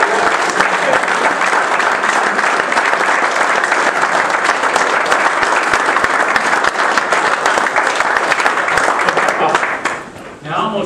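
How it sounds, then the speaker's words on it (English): Sustained audience applause fills a room at a 2012 reunion evening, loud and steady for about ten seconds before tapering off near the end, with some voices mixed into the clapping. "we ought to just give her another round of applause"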